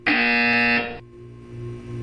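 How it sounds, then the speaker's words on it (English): A loud electronic buzzer from the video game Portal 2 sounds alone for about a second, a harsh steady tone that then cuts off, leaving a low background hum. "When you hear the buzzer, look up at the ceiling."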